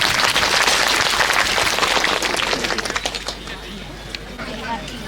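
Applause from guests at a Christian wedding ceremony, a dense burst of clapping that fades over a few seconds while voices carry on beneath it.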